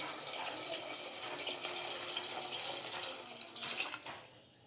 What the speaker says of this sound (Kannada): ರಸಕ್ಕೆ ಎಷ್ಟು ಬೇಕೋ ಅಷ್ಟು ನೀರು ನೋಡಿ ಹಾಕೊಳ್ಳಿ.